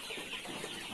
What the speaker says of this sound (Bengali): মোট 1400 মুরগি আছে।